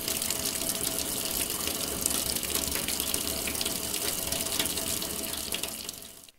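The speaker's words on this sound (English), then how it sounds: "wetting them with clean, running water" Tap water runs steadily into a sink over hands, a constant close splashing stream that fades out at the end.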